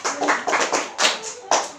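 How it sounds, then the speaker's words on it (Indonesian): Children applaud together in a classroom, bursts of clapping rising and falling in rhythmic waves across the clip, fairly close and lively. "Beri tepuk tangan untuk anak-anak ibu yang dapat menjawab."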